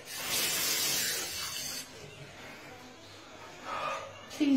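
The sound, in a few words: squirting spray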